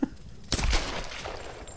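Gunfire in the Tomb Raider video game: a sharp burst of shots after a brief quiet, then a fading rattling tail, moderately loud.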